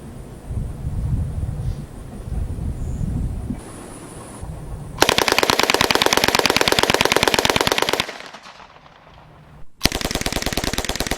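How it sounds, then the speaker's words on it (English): An Uzi 9mm submachine gun fires full auto at an outdoor range, with rapid, loud bursts of closely spaced shots, a brief pause, then another burst, preceded by wind rumble and handling noise. "So now we're going to do the full auto with the Uzi 9mm."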